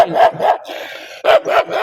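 A dog barks close and loud in two quick pairs of sharp barks, separated by a short pause filled with a faint whine.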